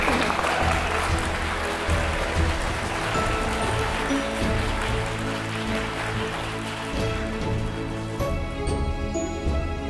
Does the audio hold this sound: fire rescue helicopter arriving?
no